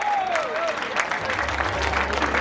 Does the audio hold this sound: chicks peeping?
no